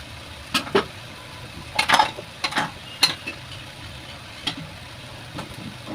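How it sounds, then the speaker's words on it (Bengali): Cabbage being stirred with chicken bones in a pan, a spatula scraping and clacking against the metal in a handful of irregular, fairly faint strokes over a low sizzling background. "আবারও নাড়াচাড়া করে নিচ্ছি।"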